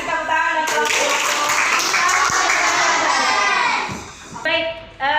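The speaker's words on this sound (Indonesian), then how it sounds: "kasih tepuk tangan buat kelompok 4" Schoolchildren in a classroom give a loud burst of applause for a student group, dense clapping filling several seconds, with children's voices before and after.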